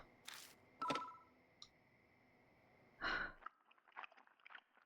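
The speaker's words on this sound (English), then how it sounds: "The phone rings." A phone in the horror video game Spirit Hunter: Death Mark gives short electronic trill bursts, three separate rings with pauses between them, clear and fairly close against a quiet background, followed by soft mouth sounds.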